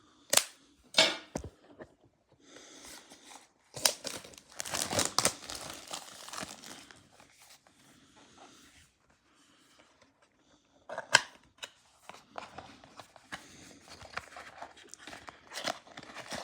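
Plastic and cardboard packaging of a Xiaomi precision screwdriver set is cut and torn open close up, with sharp snaps and clicks, bursts of crinkling and rustling, and quiet pauses between them.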